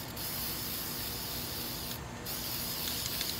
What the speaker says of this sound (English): I never spray the color over the flower in that way.